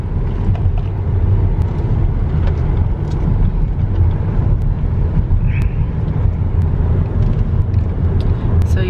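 Steady road and engine rumble from a car driving in El Paso, passing under a bridge, a continuous moderately loud drone with faint voices now and then.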